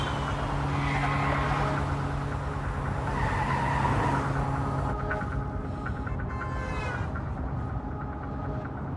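A car brakes hard and its tires skid across the road, giving a sustained scraping roar. A high tire squeal rises toward the end, with engine noise underneath.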